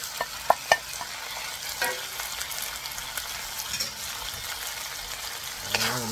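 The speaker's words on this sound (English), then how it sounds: "we'll add a little bit of the dark soy sauce to the beef" Beef chow fun stir-frying in a wok as dark soy sauce goes in, with a steady sizzle, a few sharp clatters of the spatula early on and a louder hiss near the end.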